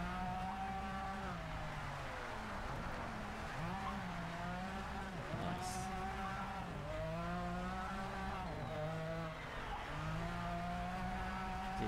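A 1992 McLaren F1 in the racing video game Project CARS 3 brakes hard, its engine note dropping and rising through downshifts with faint tire squeal, loud and continuous with no talk.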